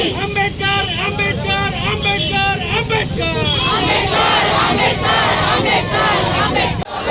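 A protest crowd chants rhythmic 'murdabad' slogans against Amit Shah, many voices shouting together in loud, repeated bursts that carry steadily for about seven seconds.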